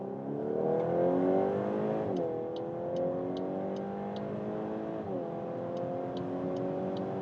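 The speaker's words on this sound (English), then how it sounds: "we can accelerate out from lower speed. So from 50 and let's go." A Volkswagen Golf R Black Edition engine revs hard from 50 and climbs steadily through the gears to about 240 km/h, with two brief dips at the shifts, loud and close throughout.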